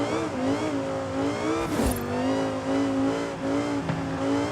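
Lamborghini STO Drift Edition engine in the Forza Horizon 5 racing game, a loud steady rev that rises and falls in wavering pitch, with a brief burst of noise partway through and no talking.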